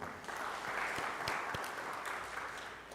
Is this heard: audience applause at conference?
yes